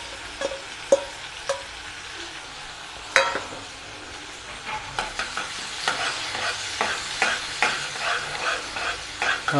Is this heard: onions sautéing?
yes